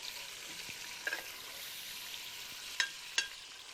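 Mutton frying in a pan in Rajasthan, India, gives a constant close sizzle with a few sharp crackles and pops near the end, and no one speaking.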